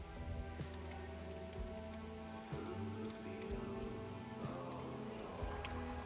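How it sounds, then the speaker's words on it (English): Steady rain falls on surfaces outdoors, forming a constant soft patter with scattered nearer drops over a low background hum. "It's a beautiful rain day."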